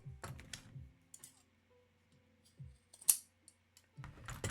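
Scissors trim fabric overhang from a denim neck tie, a few sharp close snips and clicks separated by quiet pauses.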